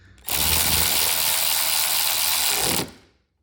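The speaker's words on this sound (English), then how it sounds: "I can actually use it as a ratchet." A Milwaukee M12 electric ratchet runs as a powered ratchet while working on a Zephyr 750 car, one loud, close, continuous mechanical whir lasting about two and a half seconds before cutting off.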